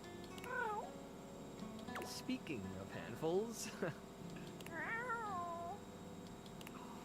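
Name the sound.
black cat meowing, from video game Date Everything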